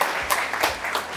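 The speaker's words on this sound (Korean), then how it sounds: "다시 한번 박수 부탁드리겠습니다" Seminar audience applauding, a steady wash of many hands clapping throughout the short moment, with no talk over it.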